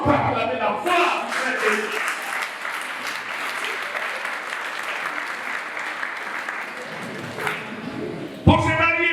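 Congregation at a wedding blessing applauding in a long, steady, dense wash of clapping that fills the room, with a brief louder burst near the end.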